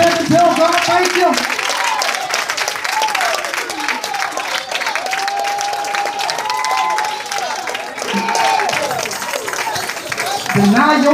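A church congregation claps hands in praise during a sermon, rhythmic loud clapping mixed with crowd noise and cheering, with a preacher's voice and organ-like tones running over it throughout.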